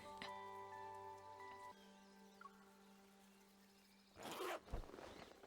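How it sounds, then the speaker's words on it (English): Quick zipper pull on a tent in the video game Love and Deepspace, a short rasping burst near the end following soft ambient tones and music-like hums, fairly faint overall. "Oh, that was quite a zipper sound."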